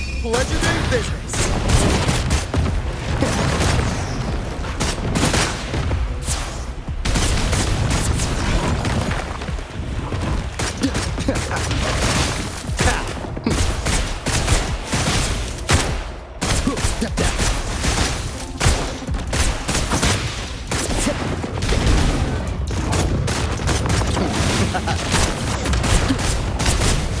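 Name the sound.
gunfire in video game Wuthering Waves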